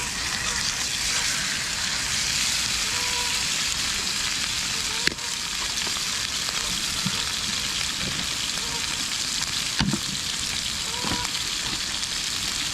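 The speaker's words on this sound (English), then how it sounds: "I'll get that steak nearly done" Rump steak sizzles in a Ridge Monkey pan, a steady close frying hiss running unbroken through the whole stretch with a couple of brief knocks from the pan.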